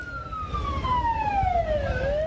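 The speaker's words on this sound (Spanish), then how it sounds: "Las ambulancias circulaban de un lado a otro de la ciudad transportando a los múltiples heridos" Ambulance sirens wailing through Kabul after a double bombing near the airport, a single siren sweeping downward in pitch over a rumbling street background, fairly close and loud.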